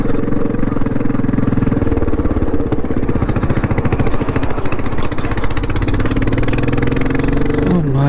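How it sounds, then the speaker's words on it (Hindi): A motorcycle with a broken silencer roars loud and close on a rough mountain road, a harsh rapid clattering exhaust beat that holds steady throughout, rising in pitch near the end. "बाइक का साइलेंसर चला गया है कि क्या हो गया, मतलब इतना आवाज़ कर रही है ना बेफालतू का"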